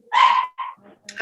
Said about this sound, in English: Sorry for my little dog in the background.